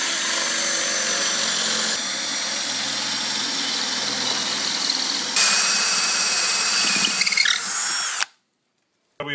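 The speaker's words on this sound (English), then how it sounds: "we're ready to drill our pocket holes." A drill driver with a square drive bit whirs at steady high speed, its pitch shifting as it bores pocket holes into wood using a face frame jig, then cuts off abruptly into near silence.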